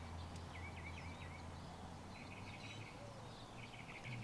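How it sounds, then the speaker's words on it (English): Birds chirp and sing in short repeated phrases early in the morning in a quiet outdoor spot, fairly faint over a steady low background hum. "Can you hear the bird?"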